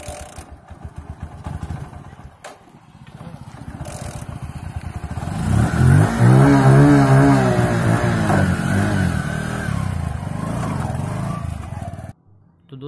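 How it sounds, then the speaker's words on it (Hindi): Motorcycle being kick-started and run without petrol as an emergency fix: mechanical clatter and scraping from the kick start, then the engine catches and revs loudly up close for several seconds before cutting off abruptly. "जैसा कि आपने देखा बाइक 1 से 2 बार में स्टार्ट हो गई है"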